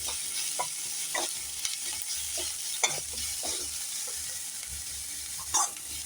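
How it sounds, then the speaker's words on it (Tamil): Onion and carrot sautéing in a pan for Chettinadu paniyaram, a steady close sizzle with occasional scrapes and stirring clatters, no talking. "வெங்காயம் கேரட்டுக்கு மட்டும். ஒரு 2 நிமிஷம் நல்லா வதங்கட்டும்."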